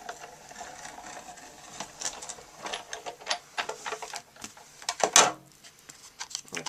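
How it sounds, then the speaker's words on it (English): A Stampin' Up Big Shot die-cutting machine presses an embossing folder between acrylic plates on its platform, giving faint irregular clicks, creaks and mechanical rattles that build to a louder crunch near the end, close and without talk. "I have my Big Shot platform. I have one acrylic plate. I'm going to put my embossing folder and another acrylic plate and run that through."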